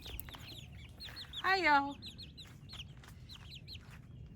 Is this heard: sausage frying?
no